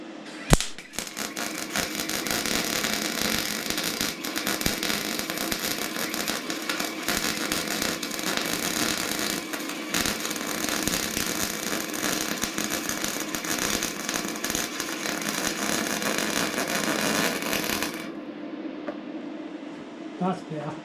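Andeli 5-in-1 MIG welder running at 160 amps, a loud, steady crackling buzz of the arc that holds for about seventeen seconds before cutting off abruptly, leaving near silence.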